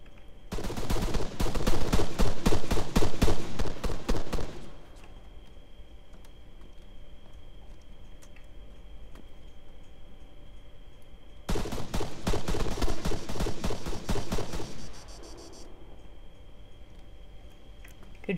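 Gunfire in the video game Arma 3, two long loud bursts of rapid automatic shots separated by a quieter stretch with steady background hum, no voices over the shooting.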